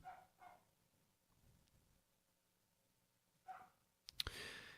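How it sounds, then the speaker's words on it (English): A dog barks in short, faint bursts near the start and again later in an otherwise quiet indoor room, followed by a louder, sharper burst at the end; no one talks. "You gotta excuse the dog."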